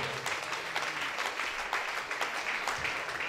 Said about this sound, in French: Acclamez très fort pour le roi de roi.